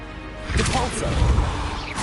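Depulso force spell striking in the wizarding game Hogwarts Legacy: a sharp whooshing crash and thwack midway, followed by a rumbling impact tail over game ambience.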